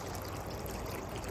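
Garden water fountain trickling steadily, a soft continuous burble and splash heard close by and alone, quiet and even for the whole short stretch.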